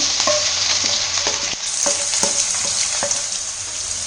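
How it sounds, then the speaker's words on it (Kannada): Three cardamom pods and onion frying in hot oil for vegetable fried rice, giving a loud, steady sizzle up close, broken by periodic spatula scrapes and clacks against the pan. "ಕಾದಿರೋ ಎಣ್ಣೆಗೆ 3 ಏಲಕ್ಕಿ ಕಾಯಿ ಹಾಕ್ಕೋತೀನಿ. ಅದ್ರ ಜೊತೆಗೆ ಈರುಳ್ಳಿ ಹಾಕ್ಕೋತೀನಿ."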